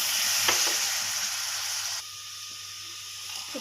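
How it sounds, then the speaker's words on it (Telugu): A pan of sugar and water for Karachi halwa is stirred on the stove, a loud hissing sizzle with scraping spoon strokes that softens partway through, no talking. "ఇప్పుడైతే ఇది బాగా కలుపుతూ ఉండాలండి."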